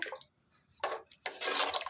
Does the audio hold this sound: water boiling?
yes